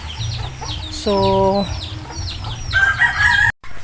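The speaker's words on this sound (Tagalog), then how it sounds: "Akala ng mga pato at manok tayo ay magpapakain" Chickens and ducks in a backyard give a single loud crowing call amid scattered clucks and quacks, anticipating feeding; someone briefly speaks.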